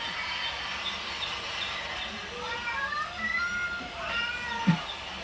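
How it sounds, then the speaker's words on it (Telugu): Several drawn-out cat meows, slightly tinny as if from a small speaker, over low background noise. "ఫోన్లో పిల్లి సౌండ్ పిల్లి అరిచినట్టు పెడితే ఎట్లా భయపడుతుందో చూడండి"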